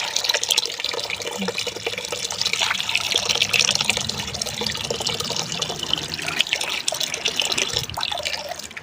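Water pours and splashes steadily over freshly harvested coffee cherries as they are washed, a continuous close rushing with small drips and sloshes and no talking.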